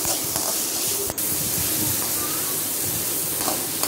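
Onions and tomatoes sauté in a pan for papaya sambhar with a steady, close sizzling hiss and a few faint clicks.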